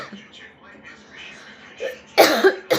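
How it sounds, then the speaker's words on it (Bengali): A woman coughs several times in quick succession, a close, sharp burst near the end following quieter murmuring beforehand. "আমার হচ্ছে খুব কাশি"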